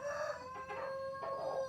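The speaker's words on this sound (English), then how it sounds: "Oh, there's a chicken in the bus." A hen in a converted 1962 Bedford Comair bus gives a close, steady run of tonal clucking calls over about two seconds, with brief swells in the middle and at the end.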